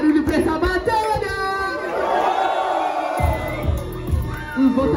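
Crowd at a hip hop rap battle semifinal cheering and shouting together, a dense roar of voices swelling and rising under an MC's amplified talk, loud and sustained across the whole stretch.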